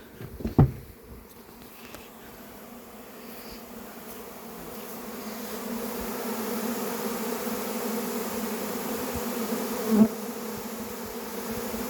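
Honeybees buzz around a hive entrance in a steady, dense hum that slowly grows louder, with a few bees passing close by and no talking.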